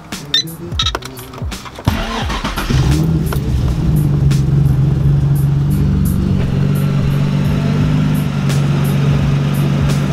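An Infiniti G35 fitted with a Stage 3 Action clutch starting up: a few clicks and a cranking burst, then the engine catches and settles into a loud, steady idle, recorded up close.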